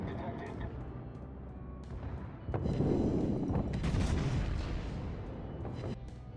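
Secondary battery guns on a warship in World of Warships pound away in a steady barrage of booming shots, growing louder midway and continuing under a voice.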